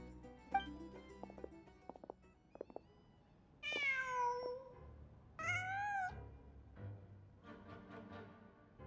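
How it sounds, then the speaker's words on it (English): A cat meows in the video game Genshin Impact, with two drawn-out, clear meows and a softer third call following a few light tapping sounds. No voices are heard. "Just a cat."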